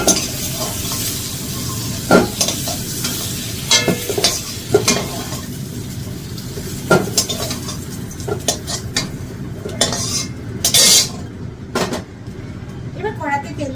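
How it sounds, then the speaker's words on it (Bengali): Potatoes frying in oil in a kadai until browned, a steady close sizzle with repeated scrapes and clanks of a spatula stirring against the pan, while a person talks intermittently. "এবার আলুগুলো আমি লাল করে ভেজে নেব"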